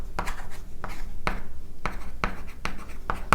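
Marker squeaking and tapping in short strokes on a board during a Java programming lesson, about seven distinct strokes close by, with no talking.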